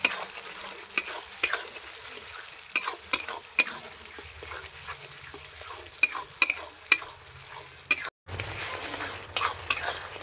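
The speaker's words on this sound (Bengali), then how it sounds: "দইটা আমি একটু ফেটিয়ে নিয়েছি, এবার দিয়ে দেবো মশলার মধ্যে। এবারে একসঙ্গে কষাবো।" Stirring and sautéing ground spice masala with whisked yogurt for a chicken curry, a steady close sizzle broken by sharp scrapes and clinks of a spoon against the pan, about a dozen knocks spread irregularly, with a brief pause near the end.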